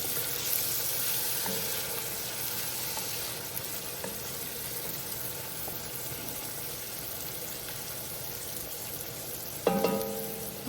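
Onions sauté in a pan for a soup or chowder with a steady, moderate sizzle and faint crackle, broken by a brief clink of a utensil near the end; no voices.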